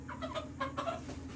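Chickens cluck softly in short, quick bursts, a few birds close by over a low steady background hum.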